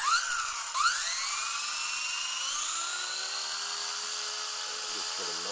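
A Blade 130X RC helicopter with weighted grips and aluminum pitch slider and tail box spools up, a high whine rising smoothly in pitch and settling into a steady, close, loud drone.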